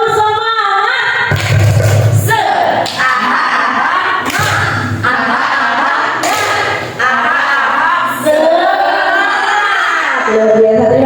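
An audience in a school training session performs a rhythmic clapping chant led by a teacher, with loud repeated thumps in bursts over about ten seconds and voices chanting along.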